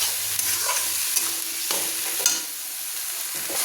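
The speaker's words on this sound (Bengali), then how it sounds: "এর জন্য আমি পেঁয়াজ পেস্ট করে যে আমি কষিয়ে নিচ্ছি" Onion paste fries in hot oil as it is cooked down for a papaya and hajari kosha dish, a steady close sizzle with repeated scraping stirs throughout.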